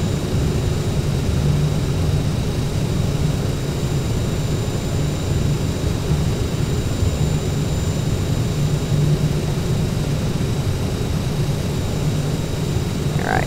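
A CRJ jet's engines roar in reverse thrust on the landing roll in a flight simulator, a loud, steady, broadband rumble that holds evenly throughout with no talking.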